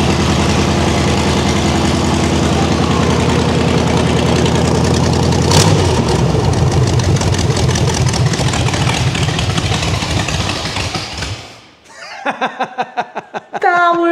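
The engine of a 1951 Ford F1 rat rod truck idles roughly with a loud, steady chugging rumble, then shuts off, leaving a few sharp metallic clunks.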